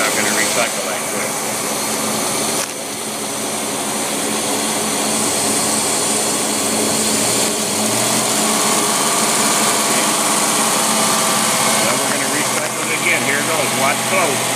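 An engine with an electronic Rochester Quadrajet carburetor runs loud and close, then its low rumble sags and drops partway through as it nearly stalls before carrying on at a rough idle.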